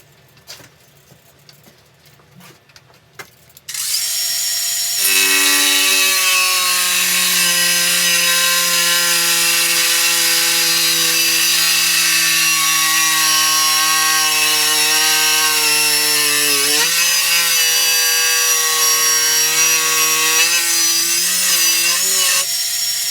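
A Makita battery brushless angle grinder cuts through 18mm rebar, first with a few handling knocks, then a loud, steady, high-pitched whine that holds for many seconds before falling off near the end.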